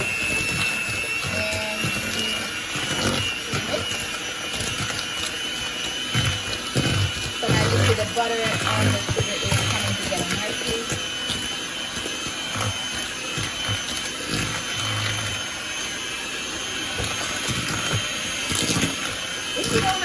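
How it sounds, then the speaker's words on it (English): An electric hand mixer whirs at medium speed through Jamaican toto batter, a steady high motor whine with grinding, rattling bursts as the beaters work the mix. "So I'm gonna plug in my mixer. So I'll be using a mixer. So I'm gonna be mixing it on a medium here."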